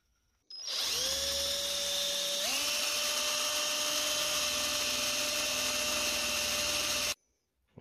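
A power drill bores holes into a CNC router table during a 25mm solid table upgrade on a 6040 machine, a loud steady whine that rises in pitch after a brief dip and runs continuously for about six seconds before cutting off.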